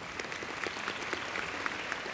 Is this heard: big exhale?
no